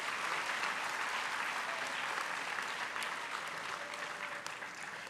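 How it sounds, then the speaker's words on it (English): A school audience at an annual day function applauds students, dense sustained clapping from a large crowd at an even level across the whole stretch. "Let us applaud their brilliant performance."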